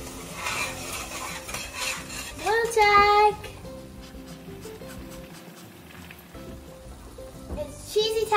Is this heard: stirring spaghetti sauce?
yes